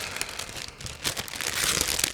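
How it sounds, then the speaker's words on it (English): Plastic model kit sprues rustling as a resealable plastic bag is opened, with steady crinkling and crumpling that grows louder and busier toward the end, close up and with no talking. "It's a resealable plastic bag, so it should be easy to open."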